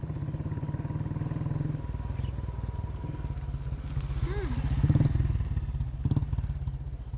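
An old, battered motorcycle engine idles and putters steadily in a Telugu action film scene, revving briefly midway, while people talk over it.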